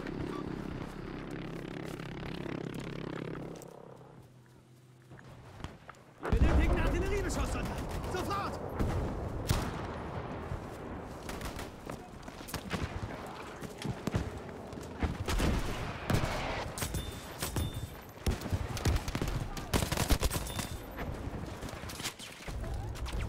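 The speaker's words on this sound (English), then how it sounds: "where do you have an artillery shot?" Artillery blasts and rattling gunfire from a World War II battle in Battlefield V, with a quieter lull before dense bursts of shots and explosions that keep going close up and loud.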